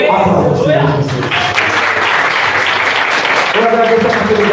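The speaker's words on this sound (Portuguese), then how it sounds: "Aplauda o Senhor Jesus." A church congregation claps in the middle of a preacher's sermon, a short burst of applause that rises between stretches of someone speaking loudly into a microphone.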